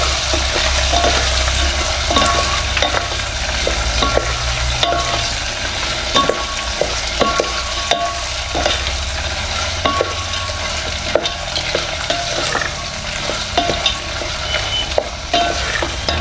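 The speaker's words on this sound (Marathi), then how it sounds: "तो अपना कांदा छानस परतून घ्यायचा आहे थोडंस लालसर होईपर्यंत" Chopped onion and green chillies sauté in a pan with a constant close sizzle, broken by frequent scraping stirs and small clicks of the spoon, while making a spiced rice dish.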